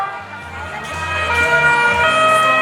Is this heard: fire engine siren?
yes